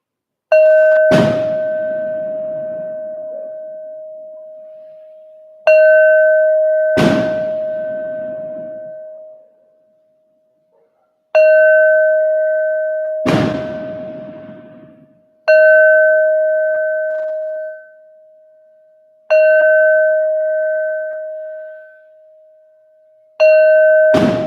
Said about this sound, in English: I'm going to do bells again anyway.